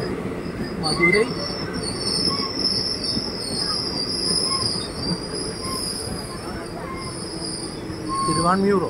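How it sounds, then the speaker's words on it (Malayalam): A train rolls through Bhagavathipuram railway station with high, sustained wheel squeal over a low rumble of passing cars. The sound is loud and close, swelling again toward the end. "ഇതാ അങ്ങോട്ട് പോണ വണ്ടി"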